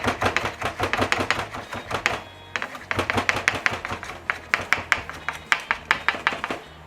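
A knife chopping rolled shiso leaves on a cutting board, a close run of quick, even taps in steady rhythm, pausing briefly midway before resuming.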